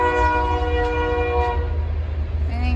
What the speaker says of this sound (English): Maingay yung train, no?